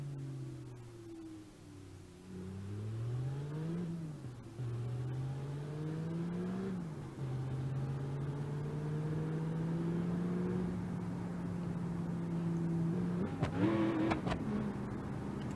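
Car engine in BeamNG.drive revving hard after running out of gears, pitch climbing through several shifts then holding at a strained, sustained high drone, ending in a rough burst, close and alone.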